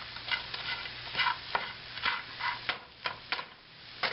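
Food browning in a frying pan for a breakfast, with soft sizzling and a run of light scraping, stirring taps against the pan, close and fairly quiet, with no voices.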